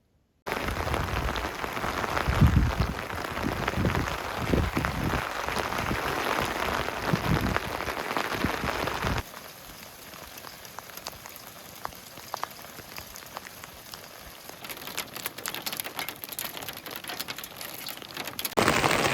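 Rain pours during a thunderstorm at a campsite in Central Oregon, a dense, close patter on a surface that drops to a lighter, sparser drumming partway through and swells again near the end.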